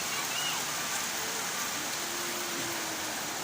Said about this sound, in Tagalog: Lakas ng ulan ay. Pati sa loob ng bahay, umuulan.